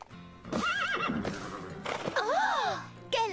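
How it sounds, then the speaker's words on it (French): A horse neighs with a rising, wavering whinny, followed by another shorter call, close and clear over faint background noise, with hoof clip-clops and a voice nearby. "Et voilà mon cheval, Merveille."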